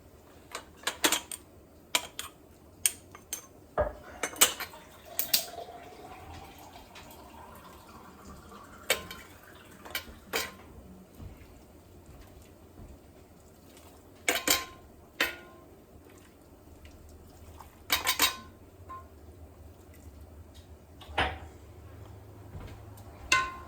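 Quiet kitchen work filling glass jars with corn relish: scattered sharp clinks and taps of glass and utensils at irregular intervals, some soft scraping between them, over a faint low background hum.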